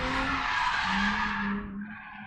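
Race car tires skidding and squealing on a track during a driving event, a loud sustained screech with engine drone underneath that fades toward the end.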